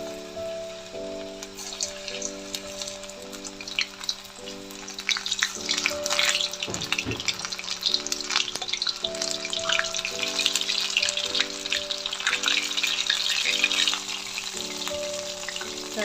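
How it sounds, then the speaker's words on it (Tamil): Mushroom pieces frying in hot oil in a kadai crackle and sizzle continuously under steady background music, growing busier as more pieces go in. "ஒரு கடாய் ஆன் பண்ணிவிட்டு அதில் ஆயில் ஊற்றிட்டு நல்லா ஹீட் ஆயிடுச்சு. இப்போ நம்ம ஒவ்வொன்றா எடுத்து போடலாம்."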